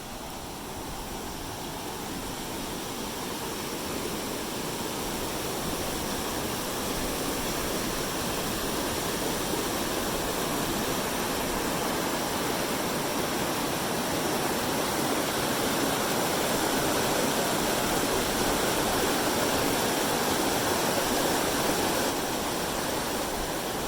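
The Kalama River runs beneath a heavy-duty hiking trail bridge near Cougar, Washington, giving a steady, full rushing roar that stays constant and close throughout, with no voices.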